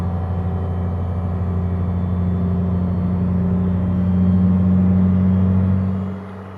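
Isuzu FVZ280 truck engine with a fault, held at full accelerator while crawling slowly, giving a loud steady low droning rumble that swells slightly before easing off at the end.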